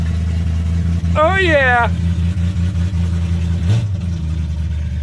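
A Ford F150 that sat parked for twenty years idles on a new carburetor at about 1200 rpm, a steady low rumbling hum held close and loud, while someone speaks briefly over it.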